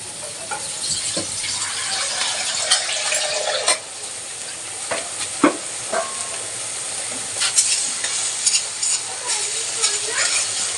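Fish curry masala frying in oil in a pan, a loud continuous sizzle and hiss with scattered clinks and scrapes from stirring, close by and steady throughout.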